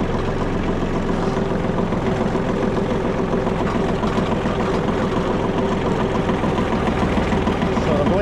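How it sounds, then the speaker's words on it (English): A John Deere 2032R compact tractor idles while warming up, a steady low diesel rumble with a constant vibrating drone that holds evenly from start to finish. "we can warm the tractor up at the same time to get the oil warmed up."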